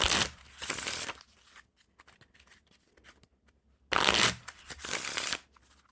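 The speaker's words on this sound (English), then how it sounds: "I actually start shuffling the cards up a little bit" A deck of gilded-edge OPC Scoops playing cards is shuffled in two brisk bursts of riffling and flicking, close and crisp, separated by a quiet stretch of softer handling.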